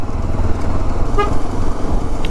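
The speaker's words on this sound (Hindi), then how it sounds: "हॉर्न बजा दिया मैंने" A single short horn toot sounds from a passing vehicle on a street in Phuentsholing, Bhutan, cutting briefly through steady engine and road noise.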